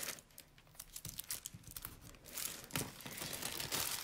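Adhesive tape is pulled and torn, then pressed down onto paper. Close crinkling and rustling comes in uneven bursts and grows busier toward the end, and no one talks.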